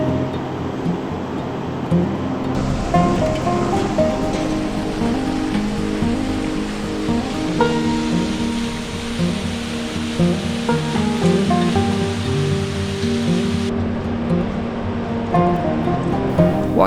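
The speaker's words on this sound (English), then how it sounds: "And that is the Gokyo Ri River." The Gokyo Ri River in Nepal's Gokyo Valley rushes and splashes in a steady, dense wash of flowing water, close and continuous throughout.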